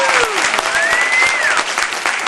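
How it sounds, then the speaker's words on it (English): Brisk audience applause during a talk show taping, a crowd clapping steadily and close, with a faint whistle-like tone gliding through it. "You can see how I got them to clap like that?"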